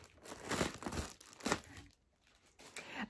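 Plastic packaging from a Pop in a Box subscription parcel handled and crinkled close up, with several loud rustling, tearing bursts separated by brief quieter gaps.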